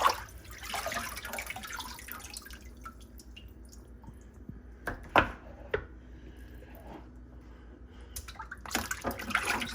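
Cold tap water runs and drips into a kitchen sink while baby back ribs are rinsed, with scattered splashes and a few sharper knocks against the basin, fairly quiet and close.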